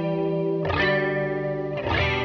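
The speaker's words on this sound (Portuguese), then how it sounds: "Um é um vibrato, que ele é mais ou menos dessa onda." A guitar played through a vibrato effect pedal, sustained chords wavering in pitch with a steady pulsing wobble, loud and clean with no talk.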